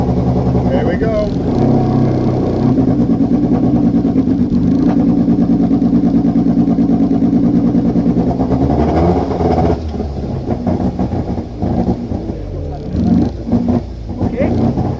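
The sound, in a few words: car engine revving with misfire at track noise test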